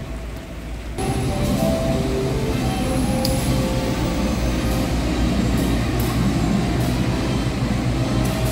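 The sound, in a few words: Gumarang train on the Semarang-Jakarta route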